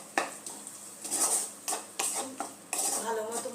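A spoon stirs spices and eggs in a pan with rhythmic metallic scrapes and clinks at close range, about every half second, over a faint sizzle. No one speaks.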